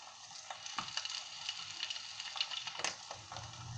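Eggs cooking in a covered pan over low heat for a Thai pan-egg breakfast, a soft continuous sizzle with faint crackles and pops, quiet and close.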